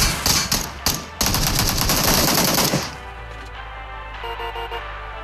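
Rapid bursts of gunfire from a video game played in a vehicle, loud and dense automatic shots for about three seconds, then fading into a low engine-like hum with faint tones.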